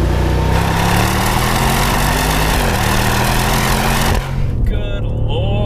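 A Dinan-tuned BMW M550i holds second gear in manual mode under acceleration, its exhaust producing a loud, steady, droning engine roar close by that drops suddenly near the end as the car lifts off.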